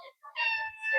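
A house cat meows close up, a short call followed by a longer drawn-out meow, with quiet pauses between them.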